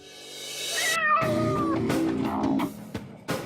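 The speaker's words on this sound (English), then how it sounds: "Racking his brain for any idea that might work, Carpenter found one right at his feet: the household cat." A domestic cat lets out a long, drawn-out meow, followed by a couple of shorter, softer vocal sounds and a faint tap, all close and clear.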